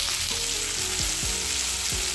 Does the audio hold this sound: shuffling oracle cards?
no